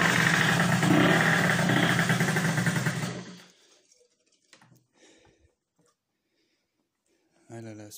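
A Derbi moped with a Pattex-patched radiator runs loudly for about three seconds, then dies. Near-silence follows with a few faint clicks, and a brief noise comes at the very end.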